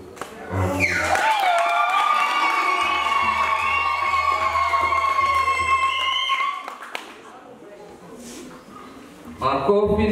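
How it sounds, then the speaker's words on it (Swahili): Wedding guests burst into high, wavering ululation and applause after a church ring exchange, the shrill trilling voices sustained for several seconds before fading into quieter chatter. "Makofi na vigelegele."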